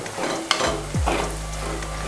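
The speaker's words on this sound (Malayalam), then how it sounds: "നന്നായി ഇളക്കണം, ഇല്ലെങ്കിൽ അടി പിടിക്കാൻ ചാൻസ് ഉണ്ട്. ചട്ടി ആയതുകൊണ്ടാണ്." Ginger fries and sizzles in a clay pot while it is stirred, giving a steady loud hiss broken by scraping strokes of the spoon.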